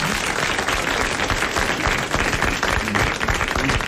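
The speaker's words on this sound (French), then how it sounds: "Vous applaudissez Monsieur Blin de Saint-Michel-sur-Orge." Dense, steady applause from a French television studio audience in 1982, many hands clapping loudly and continuously throughout with no break.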